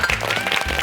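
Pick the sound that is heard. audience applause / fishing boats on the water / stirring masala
audience applause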